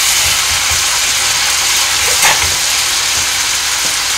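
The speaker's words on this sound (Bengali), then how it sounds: "আমি এবার এই মাটন থেকে 1 হাতা মাটন এতে আমি দিয়ে দেব। এইটাই হয়েছে বাগার দেওয়া।" A ladle of mutton curry hits hot oil for tempering while cooking mutton kala bhuna, giving a loud, steady, hissing sizzle that fills the whole moment, with a brief surge partway through and no talking.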